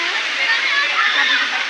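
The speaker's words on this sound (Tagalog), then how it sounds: "Ang ganda ng ilog." A river flows steadily nearby in an outdoor riverside setting, a constant rushing water hiss with no breaks, heard alone without speech.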